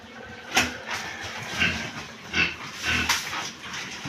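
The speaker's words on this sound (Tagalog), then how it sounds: "Yan po at magpapakain na po ng baboy si Tatay Roman." Pigs in a piggery grunt and squeal at feeding time, several bursts spread across the clip over steady background noise, close and moderately loud, with no talk.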